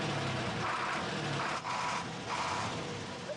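An old livestock transporter truck's engine idles with a rough, steady rumble and hiss, heard up close and fairly quiet.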